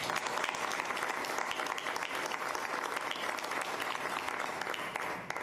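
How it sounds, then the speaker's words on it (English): A school board meeting audience applauds students, a continuous, fairly distant wash of clapping with no speech, heard alone for several seconds. "let's give them a round of applause for that"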